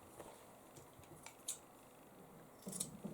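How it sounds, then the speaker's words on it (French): Scissors snip the corners of a sewn fabric pouch, giving a few quiet, crisp cuts spaced apart, each short and close. "je vais couper mes angles en me rapprochant le plus possible de ma couture"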